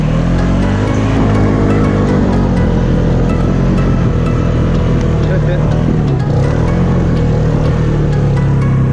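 A 2016 Polaris Sportsman 570 ATV climbs a hill on its tires, its engine a loud, steady close drone that holds for the whole stretch, with a voice talking over it.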